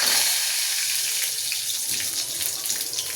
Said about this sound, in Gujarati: આપણું તેલ ગરમ થઈ ગયું છે, એમાં જીરું નાખી દઈશું। જીરાને થોડું તતડવા દઈશું